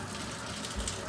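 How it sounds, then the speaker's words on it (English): Tap water running into a sink to fill it, a faint, steady broadband rush of about a second with no talking over it. "I'm going to let some water in here."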